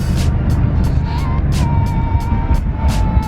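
Mercedes AMG CLA car accelerating, a steady engine drone with a rising tone as it pulls, heard from inside the cabin alongside rhythmic clicking, loud and continuous.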